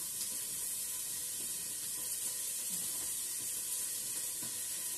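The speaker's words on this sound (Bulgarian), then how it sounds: "Капваме малко олио." Cooking oil sizzles in a pot while chicken fillet with mushrooms and rice is being made, giving a steady, close, bright hiss throughout with faint kitchen clatter and no speech.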